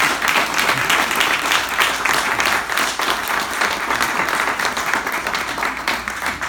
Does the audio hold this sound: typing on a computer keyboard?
no